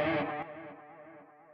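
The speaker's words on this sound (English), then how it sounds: "I like this mag delay." A guitar note rings through the mag delay on a Sonicake Matribox, a bright attack followed by smooth, wavering repeats that fade gradually into soft trails, heard alone.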